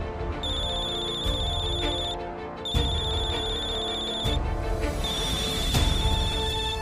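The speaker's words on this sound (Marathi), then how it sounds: "हे बघ, काव्याचा फोन आहे." A phone ringtone plays in repeated electronic bursts, three clear rings separated by short gaps, fairly loud over a busy room background with no talk.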